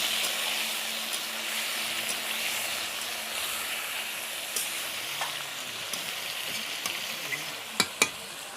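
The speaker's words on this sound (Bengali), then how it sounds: "এখানে মাংসটি খুব বেশি ভেজে নেব না, অল্প করে ভেজে নেব" Chicken pieces frying lightly in hot oil in a pan for a potato chicken curry, a steady dense sizzle throughout with a couple of sharp clicks near the end.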